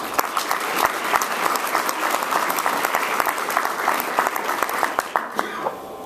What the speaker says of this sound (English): A round of applause for John and Don